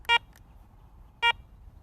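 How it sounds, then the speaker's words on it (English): Garrett Ace 200 metal detector giving two short, clear electronic beeps about a second apart at power-on, close and alone over a quiet background. "To power on the detector, simply press the power button."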